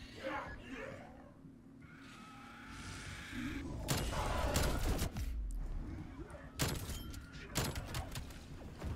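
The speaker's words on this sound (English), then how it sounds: "those explosions just are brutal" Explosions in Call of Duty zombies on the Mauer der Toten map thump and crack in several loud bursts with heavy low booms, mixed with game noise and a faint voice.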